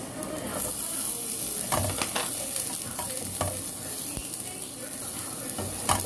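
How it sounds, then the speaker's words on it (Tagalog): Garlic and onion sauté in a hot pan for a Filipino dish, producing a loud, continuous close sizzle broken by repeated scraping stir strokes from a utensil, with no talking. "lagyan na natin yung bawang. Gisa-gisa lang natin."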